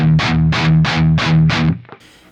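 Electric guitar through an Axe-Fx III modeling a Mesa Boogie Triple Crown 100 amp: five evenly spaced, tight, distorted chugs with firm low end, then a short decay into hiss, loud and alone.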